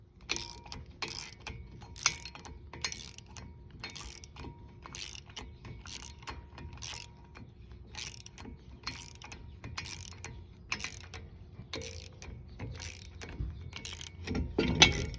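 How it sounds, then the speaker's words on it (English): Steady ratchet clicking as bolts are tightened to press a worn front brake rotor off the hub of a 2015-2019 Toyota Camry, repeated bursts of close metallic clicks with short pauses, no talking. "as we tighten them, it should pull the rotor away from the hub."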